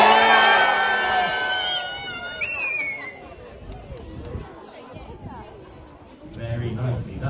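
Audience at a sea lion show lets out a loud, massed cheer of many voices, including excited children, that peaks early and then tails off into scattered crowd chatter.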